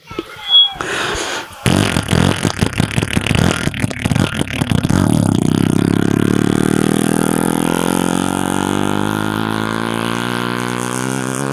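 A voice imitates a CDI H100 motorcycle, first sputtering and starting with a burst of choppy revs, then settling into a loud, sustained drone that holds close and steady to the end.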